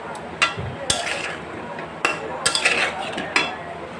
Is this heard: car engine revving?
no